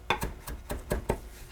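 A kitchen knife chopping Italian parsley on a cutting board, six or seven crisp separate knocks in an uneven rhythm, close and clear, with no talking.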